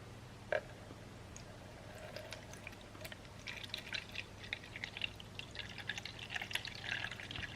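Distilled water pours steadily into a jug sitting on a kitchen scale, a soft trickling and splashing that grows busier toward the end, quiet and close with no talking.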